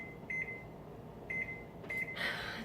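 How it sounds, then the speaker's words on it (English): A kitchen timer is set to 55 minutes, giving three short, clear electronic beeps spaced about a second apart, followed by a brief rustle, under a steady low room hum. "Put my timer on for 55 minutes."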